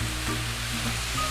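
Bacon frying in its own fat in a pan while being stirred around, a close, continuous sizzle with faint scraping movement, brief and steady with no voices.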